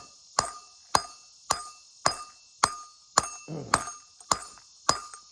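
Nine sharp metallic strikes land at a steady, even rhythm as a stake is hammered deep into the ground outdoors, each blow loud and ringing with a brief fading tail and nothing else heard between them.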